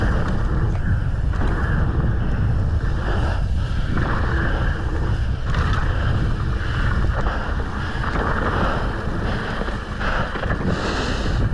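Strong, gusty wind roars and buffets across the microphone outdoors at a freeride event in Park City, loud and continuous with surging gusts throughout.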